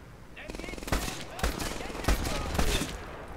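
Rapid bursts of automatic gunfire with several sharper single shots in Medal of Honor Airborne, a World War II shooter set at Omaha Beach, crackling steadily at close range.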